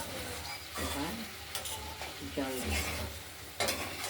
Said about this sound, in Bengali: মশলাটা কষানো হচ্ছে, দেখতে থাকুন।